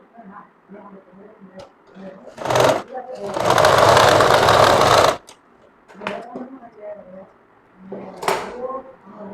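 A sewing machine stitches the raw edge of a kameez with a collar design. It runs in one short, dense whirring burst, and a voice talks before and after it.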